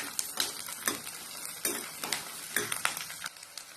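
Onion and garlic sautéing in a pan for garlic chutney, quiet sizzling broken by a rhythmic series of spatula scrapes and taps, close and fairly soft.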